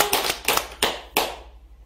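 Four or five slow, separate bursts of group clapping come from an audience before a song at a temple gathering, evenly paced and fairly close, with the last clap fading into quiet.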